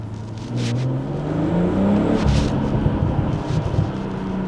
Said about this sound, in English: all of these exhaust noises that I'm hearing now